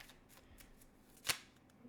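Tarot cards flicked or riffled during a reading, one sharp papery burst near the middle of the clip, close and fairly quiet, with faint card handling around it.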